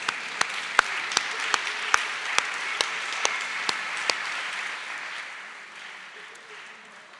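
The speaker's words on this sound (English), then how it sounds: "Or you can clap if you like." Graduates applauding at a Mannheim University graduate school ceremony: a crowd's sustained applause punctuated by a dozen or so sharp, close individual claps in a regular beat, the whole sound fading gradually over the last couple of seconds.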